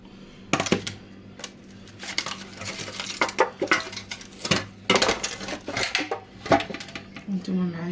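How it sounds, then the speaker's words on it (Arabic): Metal pots and lids clatter and knock in a home kitchen while a cooking pot is lifted and handled, irregular bright clanks and scrapes, some sharp and close, with quiet gaps between. "كنهز القدر اللي بغيت كنهزو"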